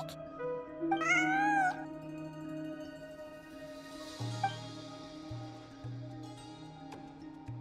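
A cat in the video game Genshin Impact gives one clear, rising meow near the start, followed by quieter game sounds and soft tonal background noise.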